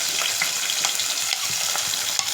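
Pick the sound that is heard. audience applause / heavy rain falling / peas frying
peas frying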